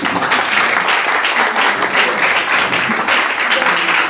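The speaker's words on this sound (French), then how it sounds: "Applaudissons pour le Seigneur" Steady, dense applause from a congregation at a French-speaking church service, clapping for the Lord, continuous and loud throughout with no clear speech.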